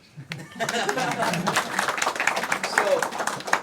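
A live audience claps together after a monk's remark at a debate event, a dense steady patter of many hands lasting a few seconds, with scattered chuckles and voices mixed in.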